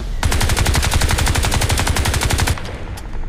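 Rapid automatic gunfire in the video game Crysis 3 multiplayer, a sustained burst of evenly spaced shots lasting over two seconds, loud and close, then stopping abruptly.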